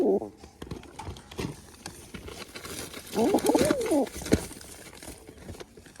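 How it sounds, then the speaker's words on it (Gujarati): Wild pigeons coo in a rolling, warbling burst near the middle, with softer bird calls and faint background activity around it. "કબૂતર પણ બોલે"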